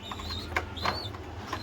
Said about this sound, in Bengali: এই হচ্ছে নর কবুতরটা, এটা হচ্ছে মাদি।